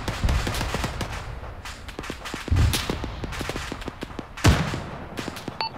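Gunfire crackles through a large-scale ArmA 3 firefight: rapid, irregular volleys of sharp shots and bursts over about six seconds, with a few heavier, louder reports standing out from the steady clatter.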